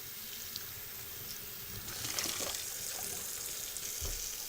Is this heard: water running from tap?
yes